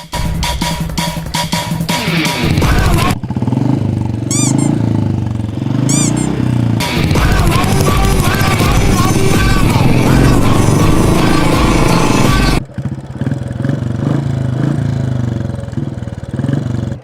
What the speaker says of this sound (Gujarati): હવે આપણે બુલેટને ચાલુ કરી અને આને જરી ગરમ કરી.